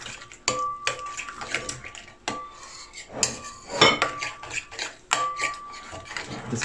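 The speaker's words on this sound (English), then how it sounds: "So I'm going to help her by mixing the spices first" A metal spoon mixes spices in a bowl for chicken shashlik, producing irregular close clinks and scrapes against the sides with brief ringing taps and quieter stirring between.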